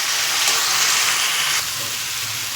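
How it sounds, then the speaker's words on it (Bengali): Onion paste and ground spices sauté in a pan with a dense, close sizzle that eases slightly partway through, with faint stirring underneath. "এবার একটু ভালো করে কষে নেব।"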